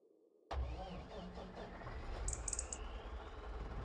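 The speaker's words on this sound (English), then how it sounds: "Let's just move this truck." A truck engine in Farming Simulator 25 cranks and catches abruptly from near silence, then settles into a steady mid-pitched idle rumble, with faint bird chirps in the background.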